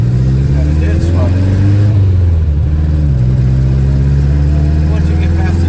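A Subaru engine fitted with a Hitachi carburetor runs loud and close with a heavy low drone, its pitch wavering unevenly as it stumbles, with a voice speaking over it.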